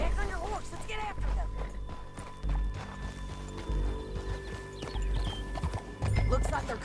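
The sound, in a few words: horse galloping in video game Red Dead Redemption 2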